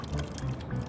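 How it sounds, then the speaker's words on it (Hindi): Water pouring and trickling out of a soaked shoe outdoors in floodwater, a steady close splashing flow that is soft to moderate in level. "ये साले मेरे जूते से पानी निकल रहा है"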